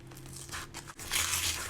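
Paper being torn off an old book, two ripping pulls with a crinkly, crunchy texture, close and fairly loud with no talk.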